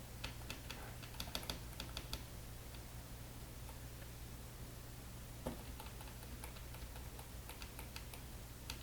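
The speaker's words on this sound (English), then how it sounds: "I'm hitting the keys like" Rapid bursts of computer keyboard key presses while playing a roguelike game, clattering in quick clusters near the start and again later, over a steady low hum with no talking.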